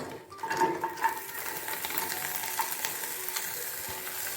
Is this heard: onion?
yes